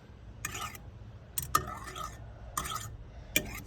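Melted old plastic being stirred in a container, four separate scraping, clattering strokes at irregular intervals, close and fairly loud.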